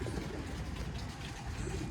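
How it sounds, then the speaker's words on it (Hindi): Pigeons eating grain coo in a low, continuous murmur, close by, over a steady noisy rustle. "ये दाना खा रहे हैं कबूतर दोस्तों"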